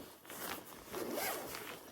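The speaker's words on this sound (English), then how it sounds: "what I like about it is this zips at the bottom" A travel bag's zipper, the one along its bottom that expands the bag, is pulled open up close in a few quick raspy strokes with no talking.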